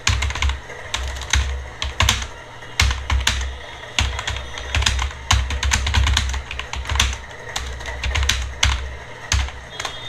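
Rapid, steady keystrokes on a computer keyboard, with sharp clicks in an uneven rhythm over a low hum for about ten seconds. The typing is close and clear, with no voices.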